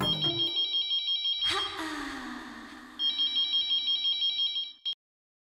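A telephone rings in repeated bright electronic trills, two bursts separated by a short gap, close and clear, with a brief lower tone and a faint voice in between.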